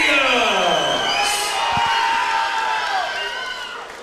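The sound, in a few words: crowd cheering for fighters at grappling match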